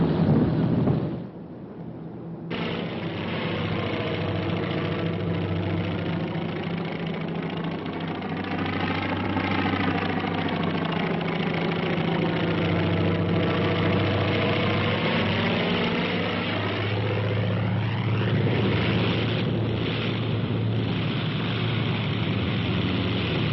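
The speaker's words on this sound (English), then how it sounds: "As one plane hits the deck, its landing gear gives way." Airplane engine roaring steadily as a plane lands on an aircraft carrier deck, the engine note sweeping up and down over a continuous rushing wind, loud and close with no talk.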